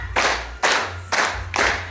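Four bursts of group hand-clapping from a class of pupils in a clap-pattern game, each burst sharp and full, evenly spaced about half a second apart, with no talking over them.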